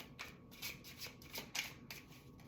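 Soft papery flicks and slides of tarot cards being shuffled and drawn, a quick run of faint, close rustles with no talking.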